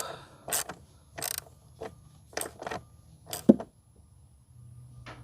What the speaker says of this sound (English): Just tighten up that clamp.